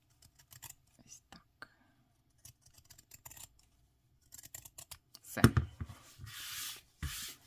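Scissors cut fabric for a short double-breasted jacket for a 13-inch Paola Reina doll, snipping and rustling close by in scattered bursts, with a few louder rubbing cuts near the end.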